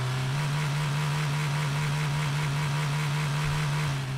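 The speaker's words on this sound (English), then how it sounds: "Oh, that's a much louder car, I know that." A loud car engine in a zombie road trip video game drones steadily at close range, a constant low rumbling hum with a strong buzzing tone and no talk over it.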